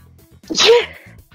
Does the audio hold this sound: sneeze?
yes